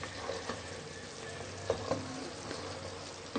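Ghee added to melted sugar in a pan for mutanjan sweet rice, foaming and frying with a soft, steady sizzling hiss. A few small pops and crackles break through, and no voices are heard.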